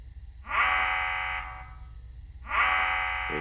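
A zombie approach siren in 7 Days to Die sounds twice as a rising whooping wail, each blast holding for about a second then fading, separated by a brief gap, fairly loud and clear.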